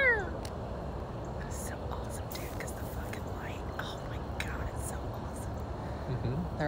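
Cats fighting outdoors late at night give drawn-out yowls and meows, faint and at a distance, while people whisper close by.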